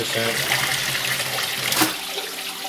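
Water gushes and splashes steadily as it is removed from a freshwater aquarium, with a brief louder slosh partway through, fairly close.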